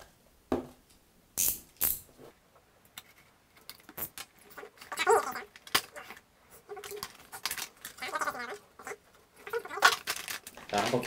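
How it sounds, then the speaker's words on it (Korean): Packaging for a SmallRig camera cage for the Sony RX100 is opened by hand, with scattered crinkles, tears and rustles in separate bursts against a quiet room, close and fairly soft. "지금부터 한번 간단하게 뜯어볼게요."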